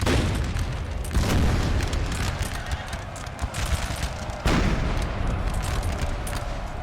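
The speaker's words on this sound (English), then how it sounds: "Canister shot there" Canister shot cannon fire booms out in a Napoleon: Total War battle, with heavy blasts at about one and four and a half seconds over a continuous rumble of distant musket and artillery fire.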